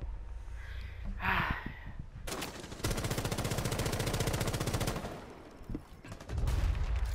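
Rapid pistol gunfire in Rainbow Six Siege, a dense burst of fast repeated shots lasting a couple of seconds and then a second loud burst, with breathy gasps and low rumbling around them.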